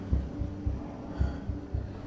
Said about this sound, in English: Do you hear the bass? Yes. It's like a heartbeat.